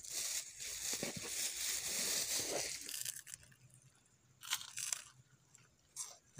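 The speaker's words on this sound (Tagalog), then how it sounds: "Yung pizza malutong." Someone bites into crunchy pizza at a birthday celebration, first a sustained loud crackling crunch up close, then quieter intermittent chewing crunches with short bursts.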